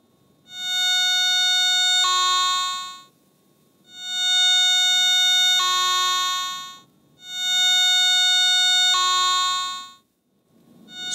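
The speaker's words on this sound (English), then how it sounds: "Large or strong signals sound loud." Strong-target response from an ATX pulse induction metal detector: three loud, sustained electronic tones, each about two seconds long with a pitch step partway through, separated by short gaps.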